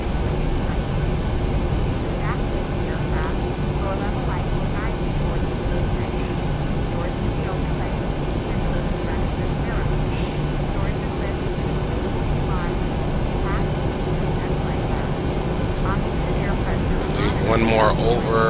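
Boeing 737-800 simulated in Flight Simulator X during a night takeoff from Salt Lake City, a steady, loud jet engine roar that stays constant throughout, with scattered faint clicks and voices talking over it.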